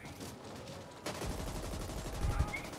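Rapid assault rifle fire in the sci-fi shooter game The Ascent erupts after a quieter first second, then holds as a dense, loud stream of bursts with heavy low-end thumps.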